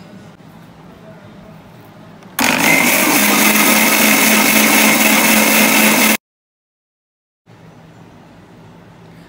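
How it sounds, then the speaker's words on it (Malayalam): An electric kitchen blender whips sunflower oil into homemade mayonnaise, a loud steady motor whine for about four seconds that stops abruptly. Quiet room noise comes before it and returns after a brief silence. "സൺഫ്ലവർ ഓയിൽ രണ്ട് സ്പൂൺ ഒഴിച്ചിട്ട് നമുക്ക് ഒന്നുകൂടെ ഒന്ന് അടിച്ചുകൊണ്ടേ ഇരിക്കണം"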